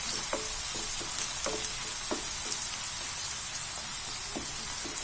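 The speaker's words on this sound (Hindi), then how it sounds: "प्याज को भी हमें गुलाबी कलर का भून लेना है।" Finely chopped onions fry in a pan with garlic and cumin while cooking traditional Punjabi sarson ka saag, giving a steady close sizzle broken by occasional stirring scrapes and small pops.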